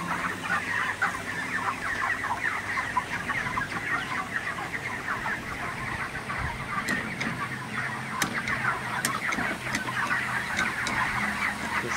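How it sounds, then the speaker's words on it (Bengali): Ready broiler chickens cluck and murmur as a crowd under a steady, dense hiss of water spray during hot weather, a continuous wash of sound with scattered sharper calls. "আমি এইভাবে মুরগিকে পানি স্প্রে করি"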